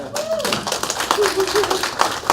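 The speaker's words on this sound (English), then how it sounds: "We can give Nicole a round of applause for that" Seminar audience gives a round of applause, a dense steady patter of many hands clapping with scattered sharper claps, lasting a couple of seconds at moderate level with faint voices mixed in.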